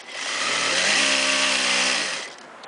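A Juki DDL-5550N-7 industrial lockstitch sewing machine runs up to a steady, loud motor whine, holds for about a second while stitching and back-tacking, then winds down and stops.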